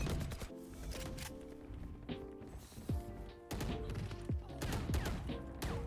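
Rapid bursts of video game gunfire crack out in close, loud volleys with short pauses between, interleaved with thuddy impacts and ringing tails during a shooter match.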